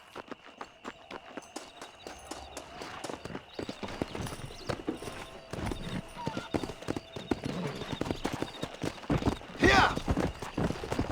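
Horse hooves galloping in Red Dead Redemption: rapid rhythmic clip-clop beats that build in pace and loudness, with voices talking over them and a brief whinny near the end.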